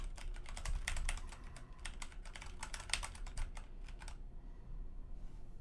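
Steady typing on an Anne Pro 2 keyboard with brown Cherry MX switches, a dense run of close, tactile clacks for about four seconds before trailing off, over a soft background hum.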